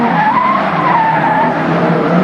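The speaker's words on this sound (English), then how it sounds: "The car gets too sideways, lock the inside front tyre and go off on the the outside of the corner" A racing Suzuki GTi Cup car at Sandown in 1995 locks its inside front tyre and skids off the outside of a corner, a loud continuous tyre squeal and scrub held for the whole moment.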